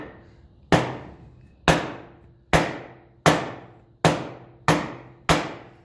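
A hammer strikes a tight nut on a 1954 Ferguson 20 TEF diesel tractor eight times at an even pace. Each blow is a sharp, close metallic whack that rings briefly and decays, with nothing else heard.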